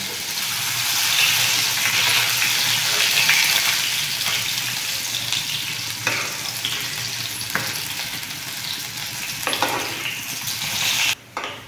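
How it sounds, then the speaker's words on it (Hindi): Okra fries in hot oil in a pan, a loud, steady, close sizzle with a few scattered scraping strokes from turning the pieces, alone without talk. "इसको हम फ्राई देते हैं दूसरी साइड से फ्राई करना है"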